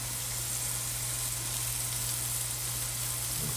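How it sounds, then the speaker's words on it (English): Onions and mushrooms frying in a skillet give off a steady, even sizzle that holds unbroken throughout, heard fairly close with a low constant hum beneath it. "The onions and the mushrooms are cooking back here"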